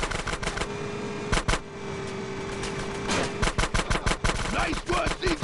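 Rapid bursts of gunfire from a shootout at a gate in GTA San Andreas, sharp cracks repeating in clusters over game engine noise and music, loud and close throughout.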